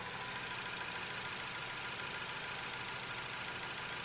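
A car engine idles steadily as propane is fed into its intake, a quiet, even hum with no talking.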